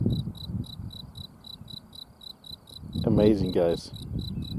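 Crickets chirp outdoors in nature among flowers, a steady rapid pulsing series of high trills running throughout at moderate level, with low background rumble and a person speaking briefly near the end.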